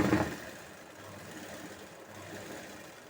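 A sewing machine stitches a fall onto a saree, running with a steady low mechanical whir after a brief louder start, close and alone with no talking.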